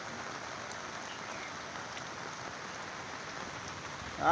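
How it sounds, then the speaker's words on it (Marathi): Heavy rain pours steadily over farm fields in a Konkan village where river floodwater is rising, a dense, even hiss of falling water with no break and no voices. "आज दुपारपासून पाऊस सुरू झाला थांबलाच थांबलेलाच नाही"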